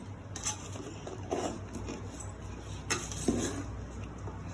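Chicken pickle being mixed by hand in a pot with mango chilli powder and oil, giving soft wet stirring and a few light clinks of metal against the pot, steady and close over a low background hum.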